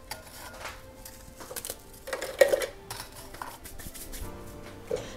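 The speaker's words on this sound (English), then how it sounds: "I will go ahead and add this to my food processor." Cookie squares tipped into a plastic food processor bowl for a cheesecake crust: scattered light clinks and clatter, with a sharper knock midway and another near the end, close by and with no talking.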